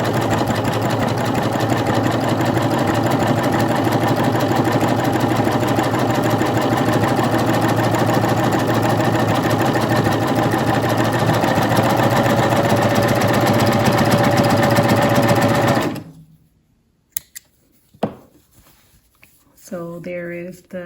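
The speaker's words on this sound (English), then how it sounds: "now I'm going to create a chain stitch on a knit fabric" A coverstitch machine sews a chain stitch on knit fabric with a rapid, even, close mechanical whirr that runs steadily for about sixteen seconds and then stops abruptly. Brief handling clicks and a voice follow.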